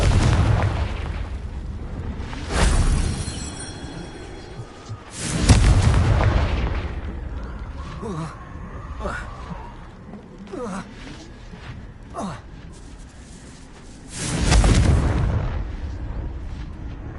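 Fiery blasting-spell explosions in the Hogwarts Legacy video game, with three heavy booms spaced several seconds apart over a rumbling background of crumbling debris and game ambience.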